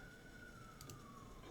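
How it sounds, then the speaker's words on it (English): An emergency vehicle siren wails faintly in the distance, a single steady tone sliding slowly downward as it recedes behind a low background hum. "if you can hear the sirens in the background"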